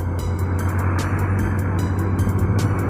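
Steady road-vehicle drone on Road 1 near CSJDM, Bulacan, heard from a Kawasaki big bike as it overtakes: a continuous low engine and road roar with wind buffeting, constant and close, with no talk.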